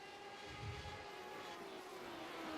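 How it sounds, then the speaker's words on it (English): A Radical SR8 race car in the iRacing sim racing game, its engine a faint, steady droning whine that holds without break and sounds fairly distant. "Oh, there's such a sick-sounding car. Yeah, sound like an angry motorcycle."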